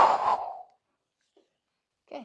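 One long, audible exhale of a deep breath during a gentle movement class, close and fairly clear, then near silence before a brief soft voiced sound.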